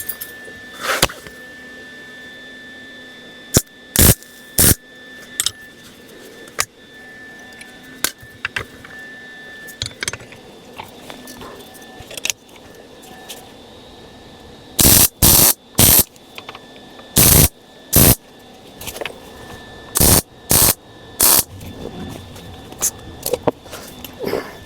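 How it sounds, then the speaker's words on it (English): Welding on a 1941 Chrysler comes through as short loud crackling bursts, mostly isolated and irregular at first and then clustered in rapid runs, set against a steady electrical hum. "All right, let's weld this up."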